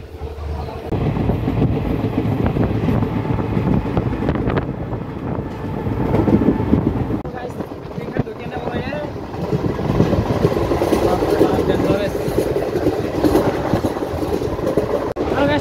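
Passenger train running on rails between Nalbari and Bongaigaon in Assam, a steady low rumble with rhythmic clatter heard from inside a carriage throughout, with people talking over it.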